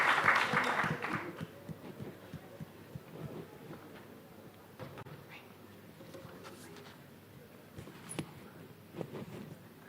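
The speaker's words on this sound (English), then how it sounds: "Can you please give Lisa a round of applause?" Conference audience applause for Lisa swells briefly at the start, then thins to scattered claps and room noise with talk mixed in.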